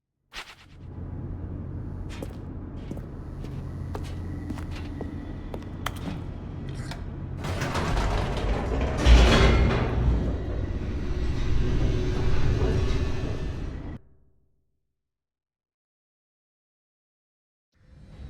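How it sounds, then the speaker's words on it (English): An elevator in the video game The Stanley Parable plunges downward, a loud steady rumbling roar that swells in the middle and then cuts off abruptly, leaving silence. "The elevator raced downward, plummeting towards an unknown fate."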